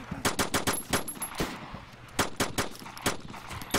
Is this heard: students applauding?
no